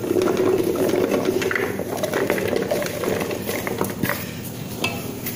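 Pumpkin pieces go into a cooking pot for a sweet dessert, with close clattering of metal and scattered knocks and scrapes as they drop in, loudest at first and then fading to lighter taps.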